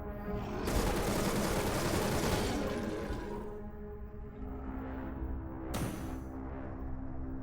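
Gunfire in the video game Incision comes as a dense burst of rapid shots over the first few seconds, fading into a ringing tail, followed by a single sharp shot near the end.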